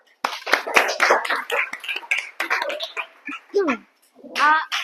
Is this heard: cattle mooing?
no